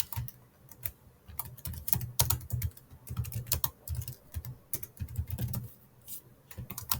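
Rapid typing on a computer keyboard, with close, crisp keystrokes in an irregular stream and brief pauses between runs of keys.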